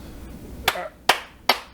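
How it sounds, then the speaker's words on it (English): Three sharp, separate claps ring out at a slow, even pace, close and fairly loud, with a quiet room in between and no one talking. "A round of applause for Todd."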